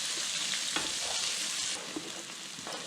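Onions fry in a pan in a Zimbabwean cooking demo, a soft, steady sizzle with faint stirring scrapes and taps close by.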